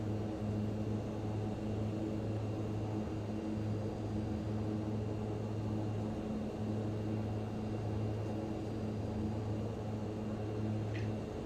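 Steady turboprop drone of an MU-2 aircraft in Microsoft Flight Simulator 2020, flying over Hawaii, a continuous low hum with faint broadband hiss holding even and uninterrupted throughout, no voices.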